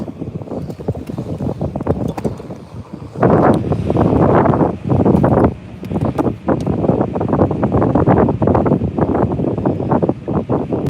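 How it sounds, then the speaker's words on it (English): Strong, steady wind gusting across open water on Lake Lanier during a bass-fishing outing, roaring loudly into the microphone with surging bursts throughout and no talking. "I think I need to run to a place where I can hide from this wind"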